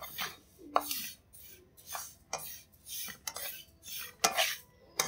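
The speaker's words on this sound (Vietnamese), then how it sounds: "Tại vì chảo nó còn nóng vậy nè, mình đảo cho nó đừng có bị khét một bên." Sesame seeds are stirred in a still-hot pan just off the heat, a utensil scraping and clinking against the metal in repeated short strokes, close and fairly loud.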